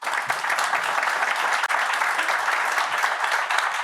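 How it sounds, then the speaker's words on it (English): A studio audience gives a warm round of applause for the guests at the close of an interview show, a dense, steady wash of clapping that holds at full strength throughout. "can I please have a warm round of applause for all my guests?"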